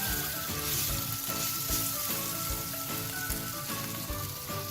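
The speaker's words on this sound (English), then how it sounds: "when the onion is a little bit cooked, I put the beef on the onion" Marinated beef with garlic and ginger sizzles on partly cooked onions in a pan, a steady close crackling hiss with small pops, continuous throughout without talk.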